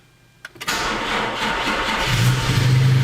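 A car engine cranks sluggishly on a weak battery for a moment, then catches and settles into a steady, rough running drone, loud and close.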